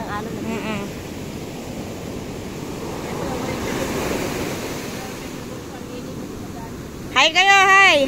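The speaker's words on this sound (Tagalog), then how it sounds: "Sobrang laki ng alon." Loud, rushing surf roars and swells with wind buffeting the microphone; a voice briefly calls out near the start and again at the end.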